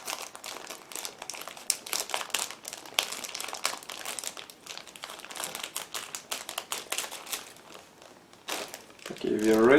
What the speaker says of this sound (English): I need a second to open the plastic bag.